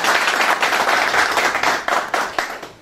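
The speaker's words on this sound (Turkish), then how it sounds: "onun için ben böyle güçlü bir alkış istiyorum kendisine" Audience applause at a breakfast gathering of people from Mardin in Zeytinburnu, a dense steady clapping from a crowd indoors that swells and then fades away over about three seconds.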